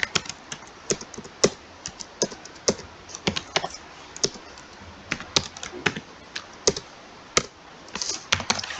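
Computer keyboard typing while a purchase bill is entered in Tally Prime accounting software: irregular, close, crisp key clicks in quick clusters with brief pauses, heard alone without talk.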